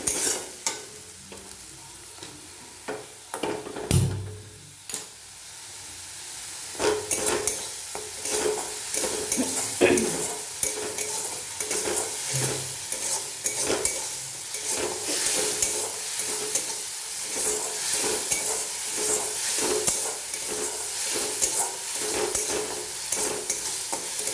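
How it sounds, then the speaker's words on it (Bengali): Onion, garlic and green chilli paste fries with spices in a pan, a steady sizzle broken by repeated scraping strokes of a spoon stirring, close and continuous with no talk. "পেঁয়াজ, রসুন আর কাঁচা লঙ্কার পেস্ট আমার ভাজা হয়ে গিয়েছে"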